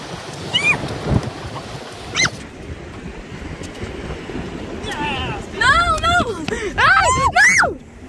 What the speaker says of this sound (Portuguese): Tá vindo onda.